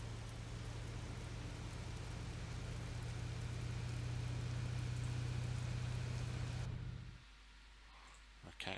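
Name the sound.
rain in a train simulator video game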